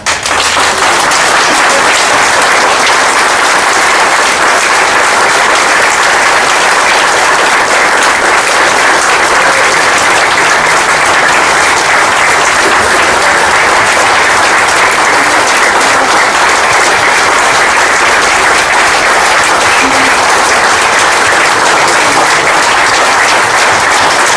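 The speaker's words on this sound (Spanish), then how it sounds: "El aplauso es para él, bendito sea." Long, loud, steady applause from a gathered audience at an addiction recovery meeting, an unbroken wash of many hands clapping for over twenty seconds with no talk.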